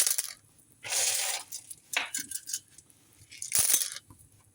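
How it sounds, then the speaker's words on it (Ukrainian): Seashells are tossed into a pan of stewed tomatoes in several loud rattling, crunching bursts of shell on shell and metal, with quieter clicks in between, close by and with no talk. "це кидаємо туди ракушки"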